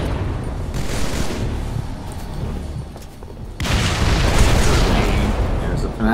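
A rocket fired in a video game, with booming explosions and rumbling blasts under a commentator's voice, louder after a sharp burst midway.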